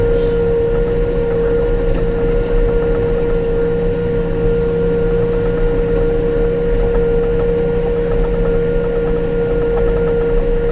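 A Massey Ferguson 5711 Dyna-4 tractor engine holds a steady 1700 RPM while raking thick rye, giving a loud, constant droning hum with no change in pitch throughout and no voices.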